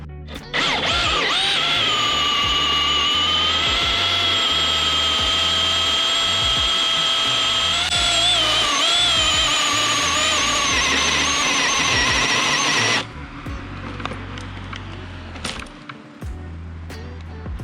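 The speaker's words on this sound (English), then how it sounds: "this saw demands a little more respect in the cut" A battery-powered saw with two 12-volt batteries cuts through a decayed tree, a loud steady high whine lasting about twelve seconds before it abruptly stops, leaving quieter background noise.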